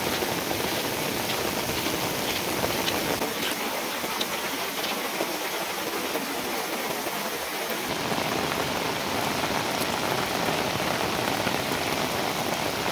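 Heavy monsoon rain pours steadily during a river flood in Nepal, a dense, continuous hiss of water drumming on surfaces that holds loud and unbroken throughout, with no voices.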